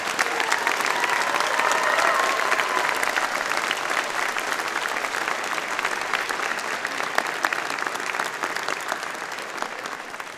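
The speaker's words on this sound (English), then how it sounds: "Graduates, a round of applause." Audience applause for graduates at a spring 2017 university convocation ceremony: steady, dense clapping from a large crowd that fills the hall and continues without a break.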